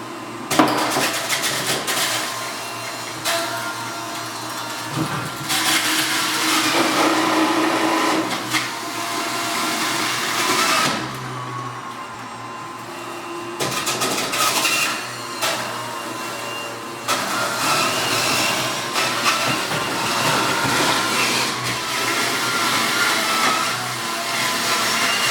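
A Breville Juice Fountain Cold XL juicer runs steadily while squeezing citrus fruit, a fairly quiet but continuous whirring motor hum with brief dips and changes in load.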